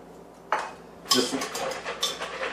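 Chopped pecans stirred into melted butter in a bowl: a few close clinks and scrapes of a utensil against the bowl, with a sharp knock near the start and lighter stirring clatter after, no talking.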